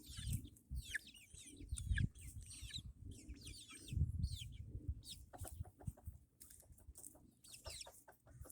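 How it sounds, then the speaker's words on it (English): A silver laced Wyandotte hen clucks close by with soft, irregular murmuring clucks, while other birds chirp and call in the background. "This is our silver lace Wyandotte."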